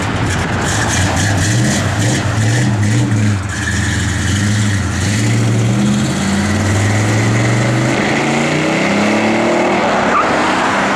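A 1966 Plymouth Belvedere II revving hard with tires squealing, the engine note rising and falling in sweeps under a continuous screech, loud and close the whole time.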